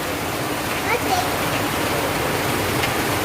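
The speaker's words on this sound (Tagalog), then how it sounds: "Nagkaroon po ng bukal dito sa amin." Water gushing from a new spring that opened after a typhoon, a steady dense broadband rush heard close and unbroken throughout.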